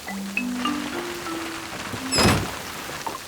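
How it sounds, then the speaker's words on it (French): Cartoon rain falls on a roofless castle in a Peppa Pig episode: a steady soft hiss of rainfall with a louder splashing thunk midway, over a few sustained musical tones. "Oh mince, il pleut et le château n'a pas de toit."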